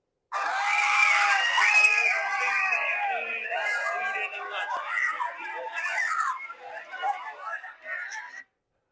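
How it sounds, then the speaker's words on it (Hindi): A played recording of many high-pitched voices of young girls screaming and wailing together, loud and overlapping at first, then breaking into shorter cries and shouts before stopping abruptly. "ये बच्चियों की चीखें हैं, ये नौजवान लड़कियों की चीखें हैं."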